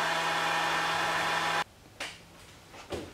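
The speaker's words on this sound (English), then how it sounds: "you can use a hairdryer on a cool setting for 5 to 10 minutes." A hairdryer on a cool setting drying conductive ink blows with a steady loud roar, then cuts off abruptly partway through, leaving quiet room tone with a few soft knocks.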